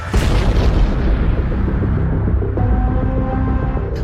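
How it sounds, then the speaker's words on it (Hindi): A missile strikes among moving cars on a road: one loud, close deep boom that rolls into a long, heavy rumbling roar and slowly fades. "फर्राटे भरती कारों के बीच हुए मिसाइल हमले को देख पूरी दुनिया दंग है"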